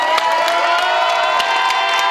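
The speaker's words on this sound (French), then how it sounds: "On peut quand même tous l'applaudir." A huge concert crowd cheering and applauding, a dense, loud, sustained roar of voices and clapping with shrill whoops cutting through.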